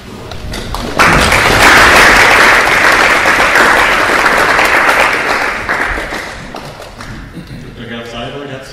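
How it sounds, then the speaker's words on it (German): An audience bursts into loud, sustained applause after a lecture at an association's general meeting. The clapping swells suddenly, holds strong, then tapers off while people start talking. "Noch einen letzten schönen Applaus für ihn"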